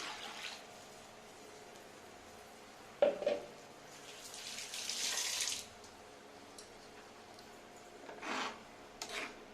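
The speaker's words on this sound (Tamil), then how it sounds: "ஜார்க்குள்ள தண்ணியை ஊற்றி எவ்வளோ தண்ணி தேவைப்படும் சால்னாக்குன்னு பார்த்து ஊற்றி" Quiet kitchen sounds with short splashes and a longer trickle of water running into a jar while making mutton salna, plus a couple of faint clinks.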